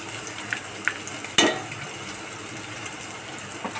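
Chili powder, turmeric and coriander-cumin powder sautéed in a pan for a bread cutlet filling: a faint steady sizzle with a sharp scraping clatter in the middle and a few light taps.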